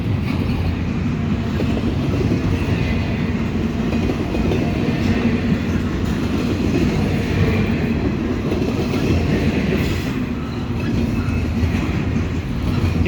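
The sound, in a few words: long intermodal freight train passing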